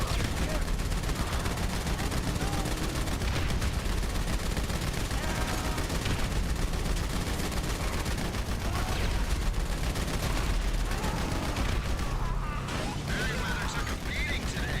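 Tactical SMG in GTA V Online firing in long, dense automatic bursts, loud and almost unbroken throughout, with mechanical clatter mixed into the chaotic mission action.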